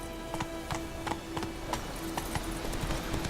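Galloping horse hooves in the video game The Witcher 3, a quick repeated clip-clop rhythm of hoofbeats at moderate level over faint ambient background, with no talk.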